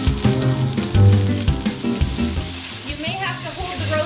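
An eye of round roast sears in hot oil with a loud, steady crackling sizzle that carries on without a break, close up.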